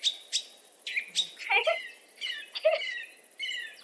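Bright, high-pitched bird chirps and warbling calls in the video game Minecraft repeat in short bursts over a steady background, with several different calls overlapping.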